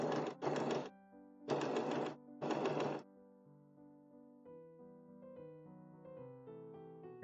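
Home sewing machine stitching over pins on a raglan top sleeve, with several short, close bursts of rapid whirring and stitching separated by pauses and quieter hum.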